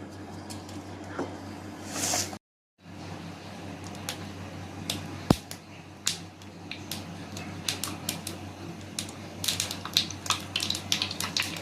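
Sharp crackling pops of mustard seeds spluttering in hot oil, irregular and dense, over a steady low hum, with a brief silent gap early on.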